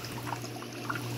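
Water pours steadily from an aquarium dosing pump at a strong, continuous rate, a soft close trickle-and-splash running unbroken under a low steady hum.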